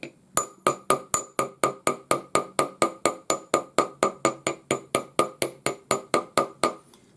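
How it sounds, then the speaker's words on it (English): A jeweler's hammer flattening 0.9 mm wire, about twenty crisp, evenly spaced metallic taps in a steady rhythm, close and clear with a faint ring after each strike. "just using my jeweler's hammer, I'm going to hammer the length"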